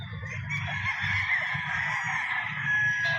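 White Kelso gamefowl roosters and stags crow on a farm, several overlapping calls forming a sustained, fairly loud chorus with low background rumble and no speech.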